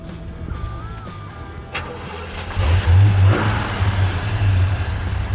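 A 1957 Chevrolet Sedan Delivery's 327 V8 engine cranks, catches and starts, then revs up and settles into a loud, rumbling idle close by.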